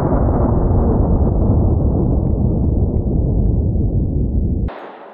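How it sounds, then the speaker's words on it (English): A Glock 40 fires a 10mm Underwood Xtreme Penetrator round, producing a loud, booming blast with a long rumbling tail that cuts off abruptly. "This next round is a spicy one. 10 millimeter Underwood ammo extreme penetrator. And I'm going to be using a Glock"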